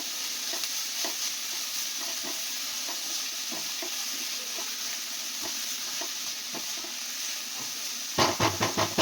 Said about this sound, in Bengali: তাহলে আমি পেঁয়াজটা একটু ভালো করে নরম করে ভেজে নিই লাল করে একটু ভেজে নিয়ে